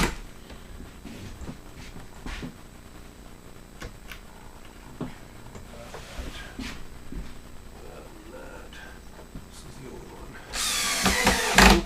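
A power drill drives screws into a wooden barn model. Quiet workshop handling and light taps come first, then a short, loud drill whir at the end.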